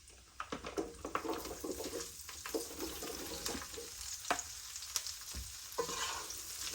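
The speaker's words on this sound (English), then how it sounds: "once all the fat is rendered out and the bacon starts to get crispy, that's when you throw your vegetables in" Winter vegetables sautéing with crispy rendered bacon in a pan, a steady close sizzle with scraping stirs and tossing bursts throughout, at moderate loudness and without voices.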